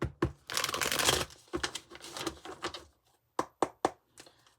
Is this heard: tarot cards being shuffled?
yes